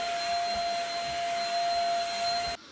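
A household vacuum cleaner running steadily with a loud, constant whine and rushing airflow, close and alone, cutting off abruptly near the end.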